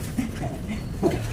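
A pet dog gives soft whimpers and faint panting close by at low volume, with a couple of brief higher yelps against a quiet background.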